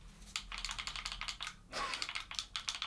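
Razer Kishi mobile controller buttons pressed in quick bursts, producing loud, crisp plastic clicks close by, irregular in rhythm with a short gap midway.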